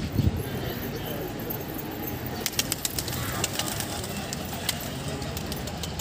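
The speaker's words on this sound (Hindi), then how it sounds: "ये कौन कौन सी नस्ल के कबूतर हैं आपके पास? पंजाबी पंजाबी पंजाबी मद्रासी हैं" Punjabi and Madrasi pigeons in a pet coop give low murmuring coos mixed with scattered sharp flutters and clicks, fairly close, with faint voices in the background.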